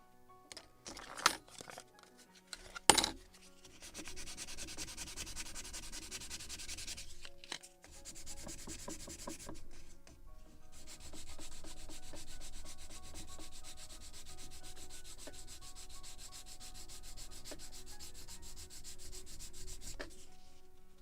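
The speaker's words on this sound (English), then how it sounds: "A little more sanding." Wooden parts of a model gun carriage for the 1776 gunboat Philadelphia are sanded by hand, a soft continuous rubbing scrape close by, preceded by a few light taps and clicks.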